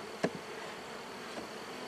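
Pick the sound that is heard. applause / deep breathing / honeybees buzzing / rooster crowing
honeybees buzzing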